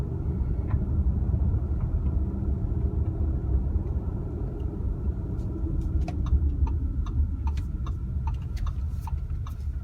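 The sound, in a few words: 2018 Audi Q5 2.0T driving on a dirt road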